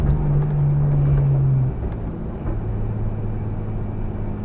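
An Infiniti G35 engine idles at a drag strip with a low droning hum whose pitch drops and wavers partway through, running rough and close to stalling, with no talking.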